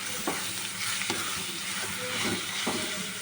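Grated raw mango frying in oil with asafoetida for mango pulihora, a dense close sizzle punctuated by several regular scraping stir strokes of a spatula in the pan.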